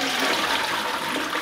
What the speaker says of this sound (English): when you flush, it makes a mad sound.